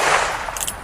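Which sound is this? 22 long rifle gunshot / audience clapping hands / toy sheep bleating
22 long rifle gunshot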